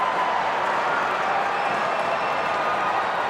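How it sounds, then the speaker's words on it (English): Rugby league supporters roar in a packed stadium during a Melbourne Storm versus New Zealand Warriors NRL match, a dense, continuous crowd wash of cheering and noise at steady loudness throughout. "listen to the fans here. Plenty of Warriors supporters in the crowd. And they are right up and about."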